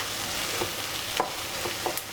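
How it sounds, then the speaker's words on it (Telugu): Masala fries in a pan for a mutton keema and drumstick curry, giving a steady close sizzle with a few soft stirring scrapes and no talking. "మసాలా కొంచెం బాగా వేగనివ్వాలి."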